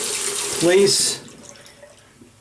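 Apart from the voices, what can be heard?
running tap water, wetting a shaving brush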